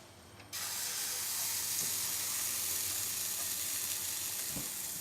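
Pancake batter for a healthy breakfast sizzles in a hot pan, a steady broadband hiss that starts abruptly after a brief pause and continues loud and unbroken, with a few faint clinks.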